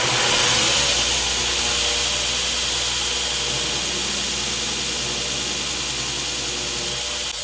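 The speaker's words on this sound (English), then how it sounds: "we're gonna get these sanded down into some sort of a block" A steady, loud power-tool whine with abrasive grinding noise as mosaic canister Damascus steel is sanded into a block for a knife, running continuously without pause.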